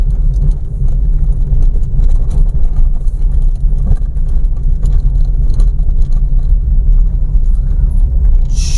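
A manual car holds third gear in highway traffic after easing up a slight incline with careful clutch control; a steady, loud low engine and road rumble runs throughout, with no talk over it.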